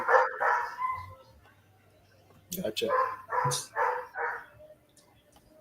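A dog barks a few times close by in a room during a live football watch-along, the barks mixed in with people talking.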